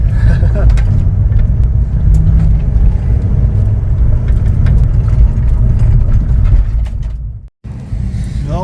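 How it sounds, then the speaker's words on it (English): Fiat-based custom project car driving in second gear through a neighborhood, its engine a steady loud low rumble close by with a brief dropout near the end, while someone talks over it. "We are driving. This is 2nd gear."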